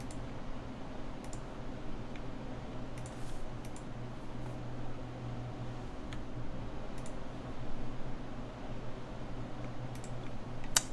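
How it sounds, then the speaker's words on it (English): Faint typing on a Pole Star TKL mechanical keyboard, sparse irregular clicks over a steady low room hum and fan noise. "turn the mic over for our typing"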